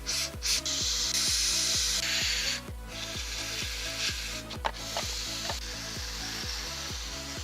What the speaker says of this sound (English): I'm just gonna spray it all down